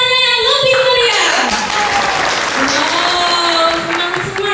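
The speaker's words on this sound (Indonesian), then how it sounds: "Yang sebelah kiri, beri tepuk tangannya yang lebih meriah." Audience members seated on the left side of an event hall clap at an emcee's urging, loud continuous applause with voices and tonal sounds layered over it.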